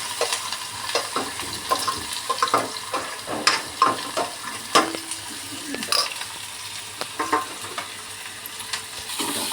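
Onion frying in hot oil, a steady close sizzle with repeated scraping and stirring of a spatula against the pan throughout.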